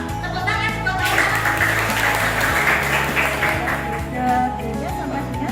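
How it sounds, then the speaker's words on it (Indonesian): Applause from a school audience at SMA 2 Tanggul, steady broadband clapping that swells after the first second and holds, mixed with background music and some voices underneath. "Tepuk tangan buat Aura."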